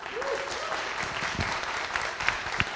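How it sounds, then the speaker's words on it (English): Steady applause from an audience welcoming a speaker at a talk fills the room, a dense wash of clapping that holds at an even level throughout. "If we can just give him a big welcoming round of applause"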